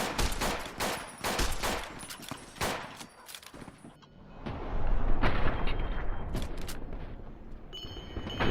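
Gunfire rings out in a modded Fallout: New Vegas on very hard difficulty: rapid, loud shots crack in quick succession, then a dense, sustained roar of firing and impacts that carries on without pause.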